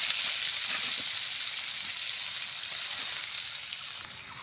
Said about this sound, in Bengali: আলু পটল ভাজা তেলে পেঁয়াজ দিয়ে দিলাম